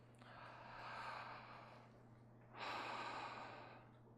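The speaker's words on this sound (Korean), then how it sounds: "숨을 한번 느끼면서 한번 크게 한번 쉬어보세요." A deep breath taken during a talk, two long airy exhales or inhales heard close and soft, the second rising sharply after a short pause.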